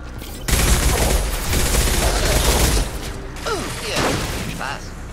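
Heavy automatic weapons fire in a Mass Effect 2 firefight, loud bursts that ease into lighter shots and mechanical clatter, with a voice speaking over the later part.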